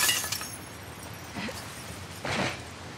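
Glass window shattering in The Last of Us Part 2, a sharp crash with scattering shards near the start, then a second bright burst of breaking glass about two seconds later, over low game ambience.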